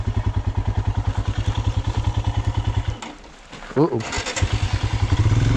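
The thumping idle of a Royal Enfield Himalayan motorcycle engine suddenly dies out in a ghost town. A short exclamation breaks the brief quiet before the engine is restarted and picks up its rhythmic beat again.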